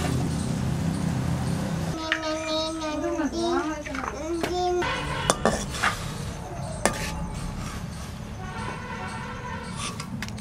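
Pots, pans and utensils clatter and crash in a home kitchen where gongura chicken curry is being cooked, sharp metallic hits scattered over several seconds among the chatter of a child and adults.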